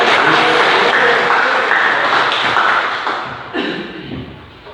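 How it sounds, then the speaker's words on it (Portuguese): Congregation applauding loudly during a church service, steady dense clapping that carries on throughout and eases slightly near the end. "Vamos aplaudir o Senhor Jesus"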